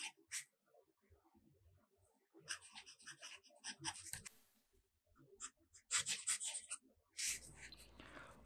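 Broad fountain pen nib loaded with Noodler's Chisholm Trail ink scratching across paper in short bursts of strokes, with pauses between, close and fairly quiet.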